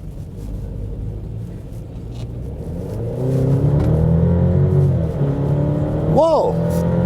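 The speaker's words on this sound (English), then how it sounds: "And now we check the acceleration of the car." A 280-horsepower car accelerates hard out of a roundabout, its engine rumble building and climbing in pitch as it pulls, heard from inside with a steady whir and a rising rev near the end.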